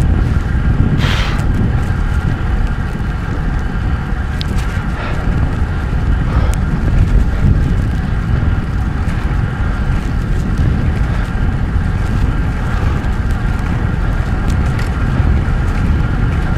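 Constant low rumbling buffeting of wind hitting the microphone while cycling on Mont-Royal, loud and unbroken throughout, with faint background traffic-like noise.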